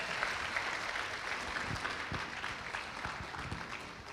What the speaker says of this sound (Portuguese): eu queria que você desse uma forte salva de palmas em honra a esse pai, o apóstolo Gustavo Lara